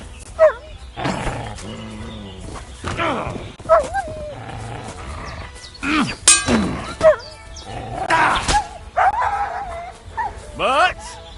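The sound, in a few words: dog barking in video game Kingdom Come Deliverance 2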